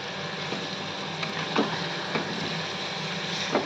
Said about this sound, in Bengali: এখন এটাকে ভালো করে নেড়ে চেড়ে নিচ্ছি।